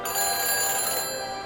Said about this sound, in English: Now, let's call that phone booth.